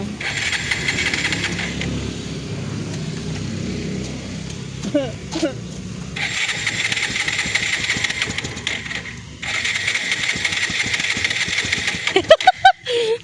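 A motorcycle that has broken down mid-road is repeatedly cranked, its starter whirring and rattling in several bursts without catching, with brief pauses and sharp mechanical clicks near the end.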